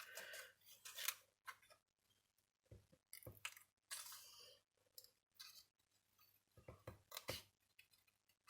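Scissors snipping through scrap paper while cutting a paper rose petal, a series of quiet, close, irregular crisp cuts separated by short pauses.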